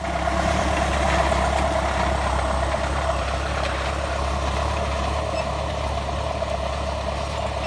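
A John Deere 5076E four-cylinder tractor, 4,500 cc and without turbo, runs with a steady, loud, continuous engine drone that holds level throughout, with no voices.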